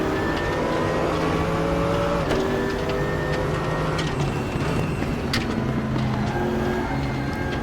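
A race car engine in the Raceroom sim racing game drones steadily at close range, its pitch sliding up and down with throttle changes and shifts, continuous and loud with no talk.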